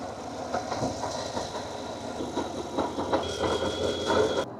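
A failing water pump on a 2018 Chevy 6.2L engine makes a loud, continuous mechanical racket, a dense rattling and knocking drone heard up close with no talking.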